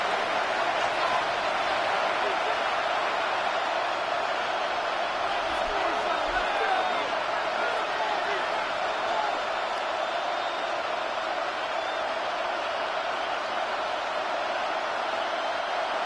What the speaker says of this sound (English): This crowd doing everything they can before third and goal